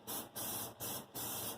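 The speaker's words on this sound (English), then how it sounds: "what we're going to do is spray this all with some olive oil spray" Olive oil cooking spray hisses onto cauliflower in four quick, close bursts with brief gaps, steady and even in a quiet kitchen.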